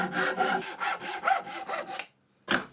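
A pull saw slices through a wooden handle for a mini sledgehammer in quick rhythmic strokes, about eight rasping passes, then a pause and one final stroke, close and clear.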